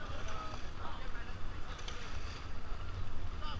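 A river raft on rushing water in Rishikesh carries people paddling together, with steady broadband water and wind rush close to the microphone throughout while a guide calls out commands over it.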